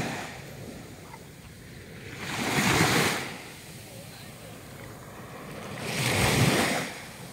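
Gentle waves wash in twice at a beach in Morong, Bataan, each swell rising and falling a few seconds apart over a soft, steady background hiss of water and wind.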